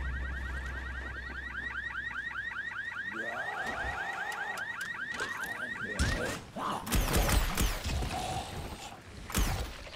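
A car alarm blares in the video game Dying Light, its repeating rising-and-falling tones cycling loudly for about six seconds before breaking off into clattering, crashing noises.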